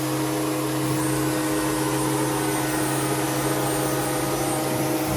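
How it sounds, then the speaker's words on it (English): A milling spindle fitted with a 3/8-inch end mill runs up to speed, giving a loud continuous whine and whir that stays steady throughout. "So that spindle will start up."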